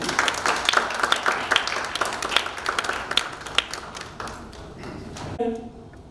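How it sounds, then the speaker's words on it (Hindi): Audience applause at a speech event, scattered sharp individual claps in a hall that thin out and fade, followed by a speaker beginning to talk. "कृपया उनके लिए ताली बजाइए"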